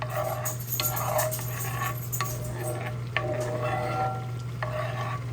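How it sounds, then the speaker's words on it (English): Butter sizzles in a cast iron skillet as a steak is basted with a spoon, a faint steady crackle with light metallic scrapes and clinks of the spoon, under a constant low hum. "you're going to want to baste your steak with it"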